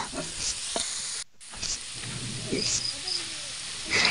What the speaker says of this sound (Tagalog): hahaluin na lang natin ito ng bahagya para maganda ang pagkaluto at maluto lahat ito